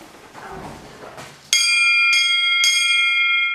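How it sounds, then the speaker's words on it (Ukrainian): A bell rung each day to call community residents to lunch: after a quiet, murmuring room, three bright metallic strikes ring out about half a second apart, loud and close, each leaving a long sustained shimmer. "Кожного дня дзвінок сповіщає, що пора збиратися на обід."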